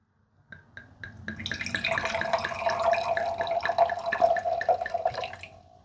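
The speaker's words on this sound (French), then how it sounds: "On va s'en verser une petite coupe." Wine pours into a glass in a short stream that starts with a few drips, swells into a bubbling, rising gurgle, then tapers off. Close and fairly quiet.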